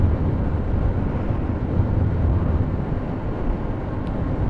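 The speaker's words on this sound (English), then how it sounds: "Sorry about the wind noise" Steady, loud wind roar buffets a motorcycle helmet microphone while riding with the visor slightly open, a dense low rumble that continues unbroken for several seconds with no voice.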